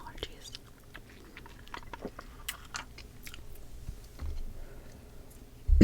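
Soft, close-miked gum chewing in an ASMR doctor roleplay, with quiet wet smacks and clicks spread through the stretch, and a brief louder bump at the end.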